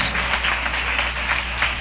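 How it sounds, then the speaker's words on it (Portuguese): A church congregation at a worship service applauds in a dense, continuous wash of clapping with a low hum underneath, heard fairly close throughout. "Aplauda ao Senhor aí, amém?"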